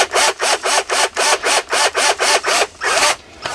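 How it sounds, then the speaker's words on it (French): A drip irrigation pipe is pierced with about a dozen quick, rhythmic rasping strokes close by, evenly spaced, before the motion slows and stops. "doucement pour percer le tuyau du côté"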